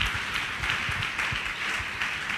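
A church congregation claps through a revival service, the claps coming as a dense, continuous wash with rhythmic beats and no clear pauses across the stretch.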